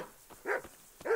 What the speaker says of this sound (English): They're all barking now.